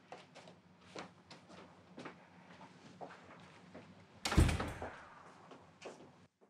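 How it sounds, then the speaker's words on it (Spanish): An indoor door is pushed shut and lands with one loud, close thud, after a few softer knocks and clicks from the handle and frame. "Cierra la puerta."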